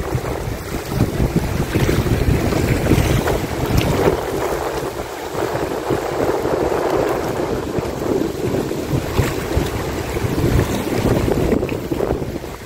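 Water waves on Nikli Haor lake slosh and wash steadily close by, mixed with heavy wind buffeting the microphone and a low boat rumble, with no voices.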